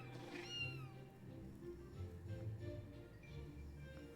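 Cats in the video game Final Fantasy XIV give a single short meow, faint and somewhat distant, over a low steady background hum.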